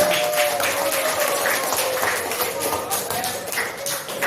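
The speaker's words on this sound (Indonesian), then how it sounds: "Tepuk tangan." Students in a coding training class clap hands together, a short burst of mixed clapping with voices talking over it.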